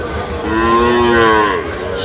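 A young Sahiwal bull calf, about four months old, moos loudly and close up at a cattle market, one long drawn-out call over a low crowd murmur.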